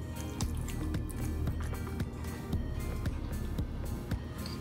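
Cooking oil heating in a pan before frying bluegill and catfish, giving a steady close sizzle and crackle with scattered pops throughout, no voices.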